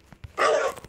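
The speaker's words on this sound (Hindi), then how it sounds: "ये मेरा डॉगी भी यहाँ पर बैठा है" A dog in a blocky sandbox video game lets out a single short bark-like yelp, fairly close and clear, with a few faint thumps before and after.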